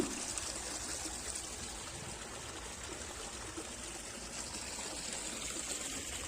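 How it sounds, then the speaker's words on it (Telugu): Natural spring water trickles out of the ground beneath a large bank, a faint, steady, even flow of water heard alone at a low level throughout. "ఇప్పుడు వాటర్ అనేది చాలా క్లీన్గా వస్తుంది చూడండి"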